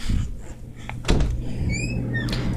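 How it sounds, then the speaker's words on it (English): A door is opened in a dark home staged like the Five Nights at Freddy's game: one sharp, fairly close knock-like thud, then faint creaks and a few high squeaks over a low steady hum. "Well, we can go open the door now."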